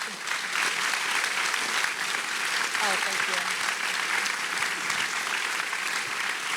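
An audience at a film event about Hollywood and the Holocaust breaks into dense, loud, sustained applause that fills the room, with some voices mixed underneath.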